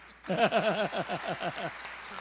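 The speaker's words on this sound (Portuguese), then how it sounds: "eu queria pedir uma salva de palmas para ele" A church congregation at a Sunday service applauds to welcome pastor James; a dense burst of clapping starts abruptly and carries on steadily, with rhythmic vocal whoops or cheers riding over it.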